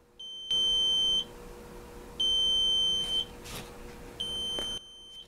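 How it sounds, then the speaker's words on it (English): Three loud electronic beeps from an Arduino buzzer, each a steady high tone lasting about a second, separated by short gaps, with faint background hiss between them. "the buzzer is running."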